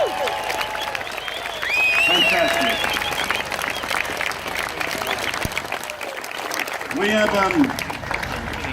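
A large crowd applauds and cheers for veterans, a dense steady roar of clapping with rising swells, while a voice speaks over it and whistle-like tones cut through.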